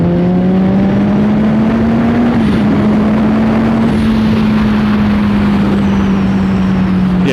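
A Kawasaki Ninja 1000 motorcycle pulls hard at part throttle, its engine holding a steady droning note that climbs slightly then levels, under heavy continuous wind rush; no talk is heard.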